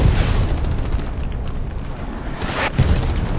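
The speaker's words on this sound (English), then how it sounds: "Avoiding the artillery." Artillery explosions rumble through a Stalingrad battle in the video game Hell Let Loose, loud continuous low booms with a sharper blast near the end and no voices.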